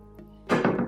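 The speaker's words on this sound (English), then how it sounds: "put warm water" Warm water poured onto yeast for vegetarian pizza dough: a short splashing gush starts after a quiet moment and runs, close and fairly loud, to the end.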